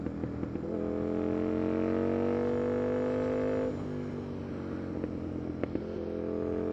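An Aprilia RSV4 motorcycle engine hums steadily while riding, with a rising tone that holds then drops as the rider shifts, continuous and fairly close with wind noise.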